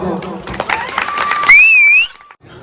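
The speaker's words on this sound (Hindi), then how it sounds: "एक बार जोरदार ताली बजा दो" An audience at a village dance competition claps loudly and close by, and a shrill whistle rises above the applause. Voices come through briefly alongside it.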